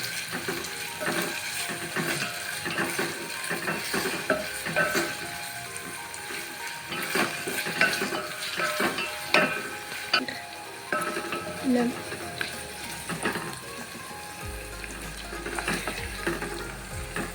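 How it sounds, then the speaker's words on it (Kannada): Onions sautéing in a pan for a curd curry, a soft steady sizzle with scattered stirring scrapes and clicks, quiet and close, as a voice talks over it. "ಇವಾಗ ಈರುಳ್ಳಿ ಹಾಕಿ, ನಿಮ್ಗೆ ಎಷ್ಟು ಬೇಕಷ್ಟು ಹಾಕ್ಬೋದು. ಚೆನ್ನಾಗಿ ಬಾಡಿಸಿ"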